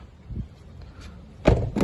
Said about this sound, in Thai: ประตูฝั่งซ้ายเป็นสไลด์ไฟฟ้านะครับ